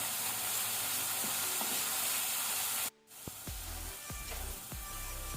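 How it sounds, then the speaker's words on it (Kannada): Turmeric powder with coriander and chilli powder frying in oil in a pan on low flame for spring onion palya, a steady close sizzle with a brief break and a few stirring scrapes. "ಟರ್ಮರಿಕ್ ಪೌಡರ್ ಹಾಕೋಣ. ಫ್ಲೇಮ್ ಲೋ ಅಲ್ಲಿ ಇರಲಿ. ಸ್ವಲ್ಪ ಫ್ರೈ ಮಾಡ್ಕೊಳ್ಳಿ, ಒಂದು 10 ಸೆಕೆಂಡ್."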